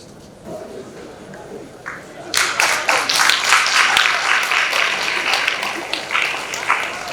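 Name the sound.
audience applause at panel discussion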